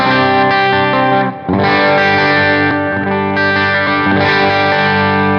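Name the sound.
electric guitar with boost pedal on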